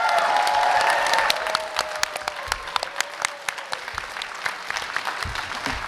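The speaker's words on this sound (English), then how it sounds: "Can we get a big round of applause for Oni?" A convention panel audience at MAGFest 2023 breaks into applause for Oni, loud and dense at first, then thinning into scattered individual claps with a faint voice underneath.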